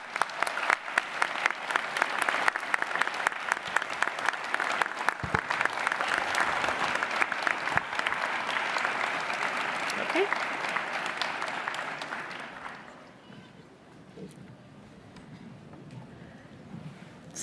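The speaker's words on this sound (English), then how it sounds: "I think they deserve for you to stand and give them a round of applause too" Graduates at a university ceremony for a school of science, engineering and environment give their supporters a round of applause, dense and steady for about twelve seconds, then fading into quiet hall murmur with a faint voice.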